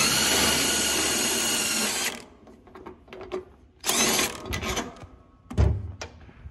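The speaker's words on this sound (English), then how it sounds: "I wish I could run that thing in all the way with that impact" An impact wrench tightens a nut while a Gleaner R72 combine is set up for corn. A loud continuous burst rattles first, then sparse clanks and shorter mechanical bursts follow nearby.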